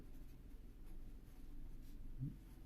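Pen writing in a school notebook in Turkish arithmetic lesson, a faint steady scratching close by in a quiet room, no talk, with a slightly louder stroke near the end.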